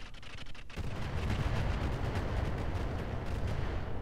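Weapon fire in the mech combat video game Roguetech: after a short quiet moment, a heavy, sustained rumbling barrage of booming shots rolls on for several seconds.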